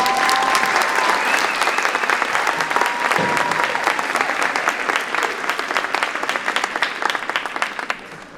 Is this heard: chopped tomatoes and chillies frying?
no